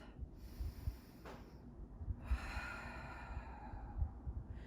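During a cool-down stretch after a no-equipment Tabata workout, someone takes a slow, deep breath through the nose and then lets out an audible sigh, close and quiet against a low background hum.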